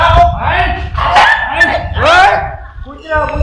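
A dog yips and barks in short, excited bursts close by, tangled with loud overlapping voices in a noisy household scene.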